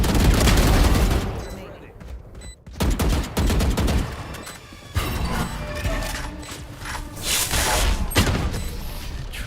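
Rapid gunfire rips through a wall during a round of a first-person shooter video game after the spike is planted, loud, dense bursts with brief gaps and clattering mechanical clicks, while players talk over it.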